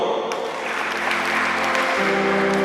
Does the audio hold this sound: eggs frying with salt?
no